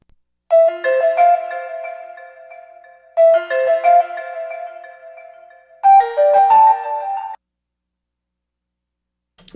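A mobile phone ringtone goes off in the middle of an Ethiopian radio broadcast: three loud, melodic ringing bursts with short gaps between them, then silence, with no talk.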